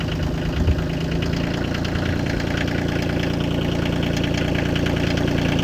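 Tractor engine idling close by with a steady, knocking diesel rumble that holds evenly and rises only slightly as it throttles up.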